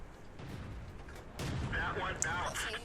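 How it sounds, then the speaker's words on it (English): Tank cannon shots boom in the World of Tanks video game, with muffled game-battle rumble and a heavier stretch of firing toward the end, while someone narrates over it. "Try and put a few shots into the side of the B1, but they just keep bouncing."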